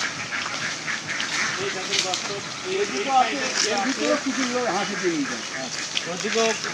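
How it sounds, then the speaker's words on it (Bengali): Ducks quacking at a duck farm on a fish pond, a scattered run of nasal quacks in the middle stretch over outdoor background, with someone talking nearby. "ওই পুকুরের পারেও আছে আরো হাঁস"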